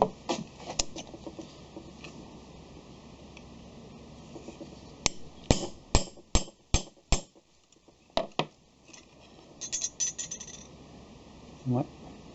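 A hammer repeatedly strikes a hardened steel center punch made from quenched 35NCD16 steel, giving a run of sharp metallic taps in quick succession, then a few more scattered hits, with voices in the background.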